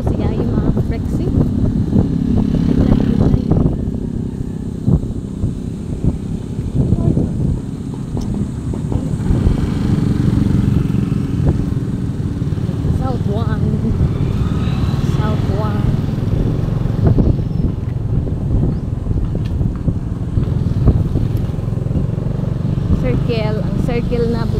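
A motorcycle engine revs and roars continuously on a windy outing in bad weather, heavy rumble under wind noise, with voices talking over it throughout.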